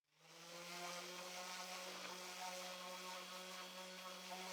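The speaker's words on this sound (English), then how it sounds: "I will now sand using the orbital sander and 120 grit sandpaper" An orbital sander with 120 grit sandpaper works a wooden piece, spinning up quickly into a steady close whirring hum that stays constant to the end, with no talk.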